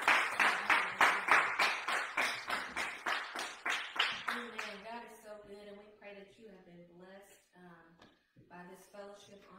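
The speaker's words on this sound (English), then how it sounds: "Let's give Jesus a hand clap." A church congregation claps in a steady, even beat at Sunday fellowship, loud and regular for about four seconds before the clapping gives way to voices singing and talking.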